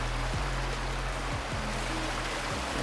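Water pours steadily from a pipe down a hillside in Farming Simulator 22, a continuous rushing stream wash with a low engine hum beneath and a few brief tonal sweeps.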